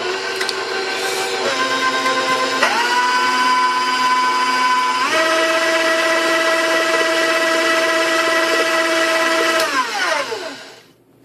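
Electric mixer beating chocolate chip cookie dough, a steady loud whine with strong harmonics that shifts up in speed twice, then winds down and stops at the end.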